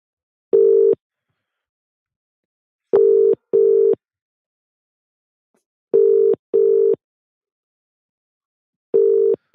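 Steady phone ring-back tones repeat in paired bursts with gaps between them, clean and close, from a call being placed back to a phone-in caller on a live show. No voices are heard.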